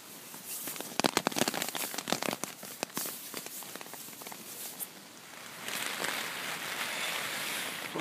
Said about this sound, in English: The wind's really blowing up high.